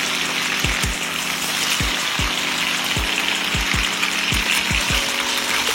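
Potatoes and onions fry in oil in a pan, a constant close sizzle broken by repeated low scraping thumps as they are stirred and turned, with no voices.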